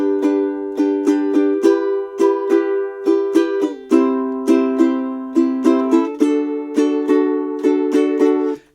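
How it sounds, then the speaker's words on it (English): Ukulele strummed in the island pattern, down down up down up, for a play-along: bright, close, clearly repeating chord strums in a lilting rhythm, alone with no talking, ending on a muted stop. "we're going to play the island strum"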